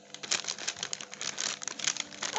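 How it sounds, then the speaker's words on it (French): Plastic bag of potatoes sliced open with a freshly sharpened kitchen knife while making homemade fries, giving close, steady crinkling and tearing of plastic with quick rustles throughout and no talk. "Hop, donc on va ouvrir le paquet,"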